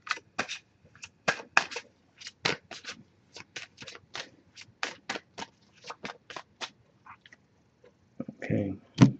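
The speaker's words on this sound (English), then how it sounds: "I did pre-shuffle the deck, but I'm going to give it a few more shuffles" Crisp repeated riffling snaps of a deck of oracle cards being shuffled, in quick irregular bursts, close up, ending with a soft rustle and tap.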